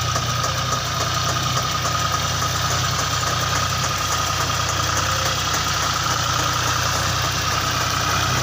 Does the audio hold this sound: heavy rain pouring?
no